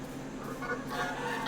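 Geese in the video game Pax Dei, a short burst of honking and clucking calls, fairly close and continuous, with no talking.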